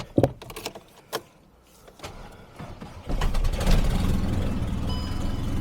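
An all-wheel-drive-converted VW Golf GTI is started in gear: a few clunks and clicks, then the engine catches about halfway through and runs loud and steady, close by.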